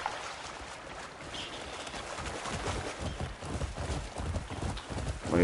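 A horse galloping in the video game Crimson Desert, its hooves beating a fast, steady clip-clop rhythm that grows slightly louder toward the end, heard alone over a soft outdoor background.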